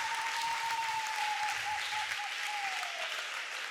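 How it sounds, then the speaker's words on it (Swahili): A church congregation claps steadily and loudly together, a dense sustained wash of applause lasting several seconds with a faint tone running beneath it. "Bwana makofi basi."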